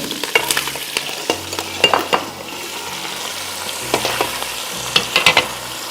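Fish steak sizzles and splatters in a hot pan for char-grilling, a steady crackling hiss broken by sharp scraping clacks and pops that cluster in bursts, close and fairly loud.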